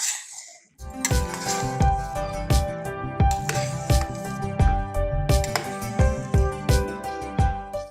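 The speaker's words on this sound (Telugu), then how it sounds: "ఒకసారి మొత్తం పైకి కిందకి కదుపుతాము" A spoon works through a pot of kadambam, a mixed vegetable and rice dish cooked as a Navaratri offering, in a steady run of metallic clinks and scrapes against the pot's sides, close and loud with no voices.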